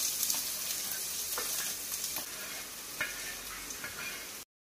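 Roasted ingredients go into a pan of hot oil with cumin for a bhurji and fry with a continuous bright hiss. Soft clicks and stirring scrapes sit on top, and the sound cuts off abruptly at the end.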